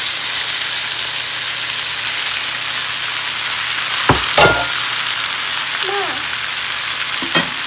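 Sago dropped into a pan of frying potatoes and bell peppers: steady, close sizzling throughout, with a few brief clatters and scrapes of stirring near the middle and end.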